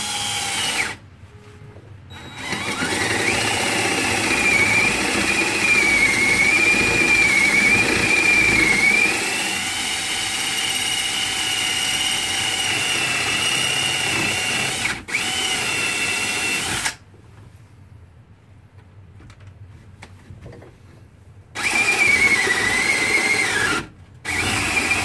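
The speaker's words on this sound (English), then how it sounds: "Just drill this again with a 7/8 spade" A power drill with a 7/8 inch spade bit bores into wood in long, loud, steady whining runs. Short pauses separate the runs, and the last burst is brief.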